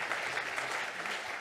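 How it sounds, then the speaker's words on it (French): Audience applause at a French conference session on water use in collective networks, a steady wash of clapping lasting the whole moment at moderate, even loudness. "On peut l'applaudir."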